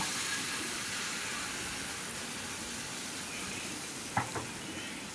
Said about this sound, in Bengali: আর এই যে পেস্টটা যেটা বানিয়ে রেখেছি সেটা এবার আমি এর মধ্যে আস্তে করে ঢেলে দেব